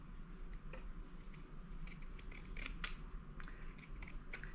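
Slightly dull scissors cut fabric for Halloween placemats, snipping in a run of crisp, close clicks and short slicing strokes at an uneven rhythm, with no one talking.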